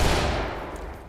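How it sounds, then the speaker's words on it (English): A flashbang grenade goes off in the tactical shooter Ready or Not: a loud, close broadband blast with a long ringing decay that fades over about a second, with no voices. "Flashbang"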